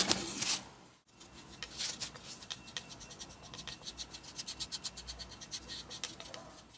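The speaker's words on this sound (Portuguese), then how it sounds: "vou colocar massa para cobrir pequenos buraquinhos que tenham ficado aqui na parte da colagem" Putty knife rasps and scrapes as wood filler is worked into small holes along a glued joint on a guitar headstock, a quiet rhythmic series of short scratchy strokes.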